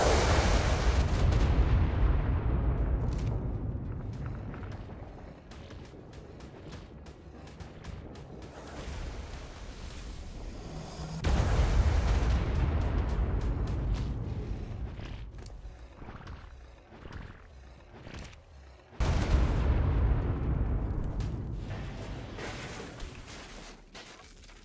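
Bombing explosions in the video game ARK with the Primal Fear mod, three big roaring blasts each decaying slowly over several seconds, loud and rumbling with crackling debris.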